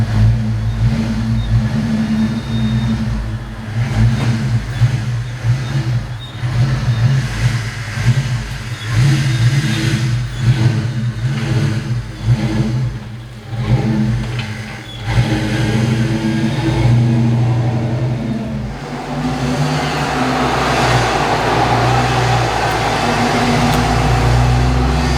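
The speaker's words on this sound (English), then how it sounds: "I'm gonna take it on a quick drive, let everything get up to temperature" A car engine running steadily on a warm-up drive, with rising and falling revs and a constant low rumble throughout, close and loud with no talking.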